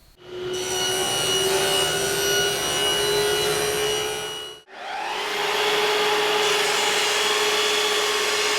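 A saw rips wood into two 5.5-inch strips in two loud, continuous passes separated by a brief pause, with a steady motor whine and cutting noise.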